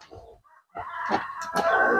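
Native chickens in a nest enclosure on a farm cluck and squawk loudly at close range, agitated and flapping, with calls building into a noisy burst near the end.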